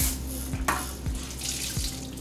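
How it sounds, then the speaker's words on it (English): Running tap water splashes steadily into a sink, with a few soft thumps as a towel is moved and wetted under the stream. "You want to wet the towel first."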